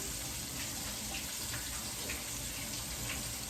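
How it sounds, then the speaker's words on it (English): A kitchen tap runs steadily while hands are washed beneath it, a constant close hiss of water with faint splashing and no talk. "Wash my hands one more time"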